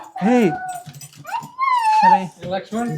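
A dog makes high, whining whimpers in several drawn-out bursts, close by, with a few short yips mixed in.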